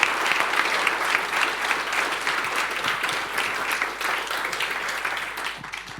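A large audience at a FinOps conference applauds at the end of a talk on private cloud cost management, a thick sustained wash of clapping that holds steady for several seconds before thinning slightly at the close.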